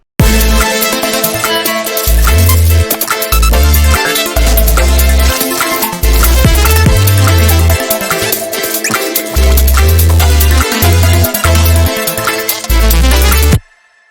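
The drop of an electronic music track hits loud and dense, with a pounding low bass pattern that stops and restarts in short gaps under a wall of bright synths, cutting off abruptly at the end.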